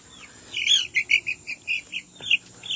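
A chick out of its brooder hollers with a run of sharp, high chirps, about ten evenly spaced peeps in quick succession, close and clear over a quiet background.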